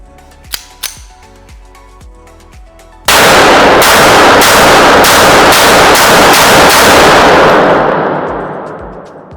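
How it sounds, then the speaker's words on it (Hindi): A Stallion E-Series pistol loaded with an eight-round magazine fires a rapid string of about eight loud, sharp shots outdoors, each cracking with a reverberant tail. A couple of quiet metallic clicks come first. "अब मैं आपको फायर करके दिखाऊंगा आपको 8 कार्टिज की कैपेसिटी के मैगजीन के साथ।"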